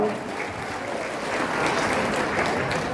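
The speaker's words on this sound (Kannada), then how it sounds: "ಸ್ವಲ್ಪ ಜೋರಾಗಿ ಚಪ್ಪಾಳೆ ಹೊಡೆಯೋಣ" A crowd at a town tricolour procession applauds elderly freedom fighters, a dense, steady burst of clapping that swells slightly toward the end, with faint voices beneath.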